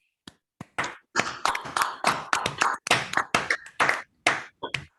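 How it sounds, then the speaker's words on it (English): A small seminar audience claps after a mathematics talk, starting with a few scattered claps and then settling into a sparse run of distinct, close handclaps that end abruptly. "Let's give a round of applause for her."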